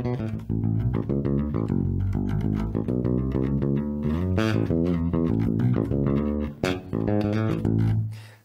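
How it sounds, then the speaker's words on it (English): A bass guitar plays a slightly displaced riff from a tune, with steady, loud plucked notes and slides running continuously without any talking. "At the end of this, we've got a little slight displacement of a bass riff that goes like this."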